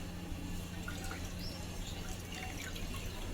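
Tap water running steadily in a kitchen sink to wash tomatoes for a tomato curry, a continuous faint splash with light dripping and no talk.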